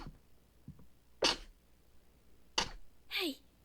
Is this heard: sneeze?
yes